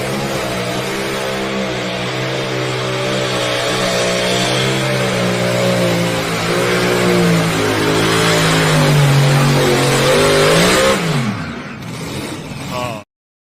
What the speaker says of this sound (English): Those motors just out there singing.